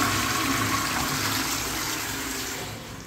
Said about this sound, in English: I hear the toilet filling.